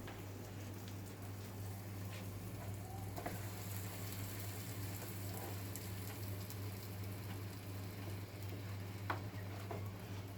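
Egg and simit toast sizzles and fries inside a closed toast press, a steady, quiet crackling hiss over low hum with occasional faint clicks.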